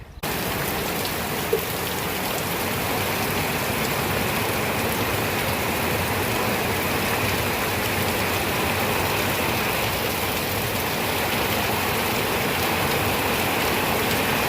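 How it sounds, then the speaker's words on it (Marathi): Heavy rain pours down steadily, a dense, loud hiss of drops that holds constant throughout with no voices. "कसं जबरदस्त असा पाऊस पडतो"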